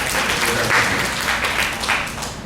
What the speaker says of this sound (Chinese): 我们一起给耶稣一个掌声好不好？